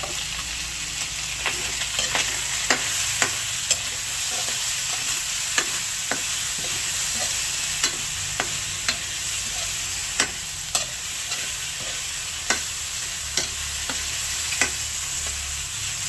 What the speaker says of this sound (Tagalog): Akin na pong igigisa itong bawang at sibuyas.